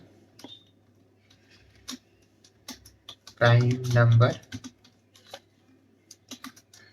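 Keyboard keys tapped in short irregular bursts while C++ code is typed, close and fairly quiet, with a brief stretch of speech in the middle.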